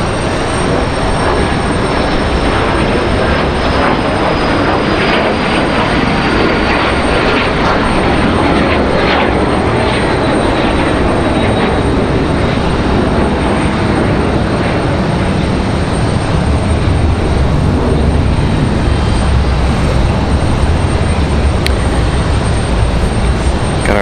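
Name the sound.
Boeing 777 airliner arriving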